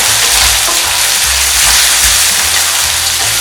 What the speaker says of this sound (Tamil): கருவேப்பிலை, மிளகு, சீரகம் எல்லாமே கொஞ்சம் நல்லா வறுத்துக்கலாம்.